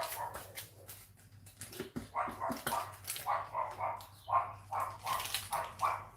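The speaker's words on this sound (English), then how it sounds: "You're gonna hear a dog barking in the background." A dog barks repeatedly in the background at a home, a steady series of medium-loud barks with short gaps, over a low steady hum.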